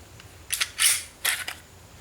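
A Smith & Wesson M&P pistol taken apart with its takedown lever, the slide sliding off in a few close, crisp metallic clicks and scrapes in quiet surroundings.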